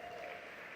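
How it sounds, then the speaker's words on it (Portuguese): Church congregation applauding during a seminar service, a faint, steady wash of distant clapping lasting under a second. "Aplauda Jesus por isso."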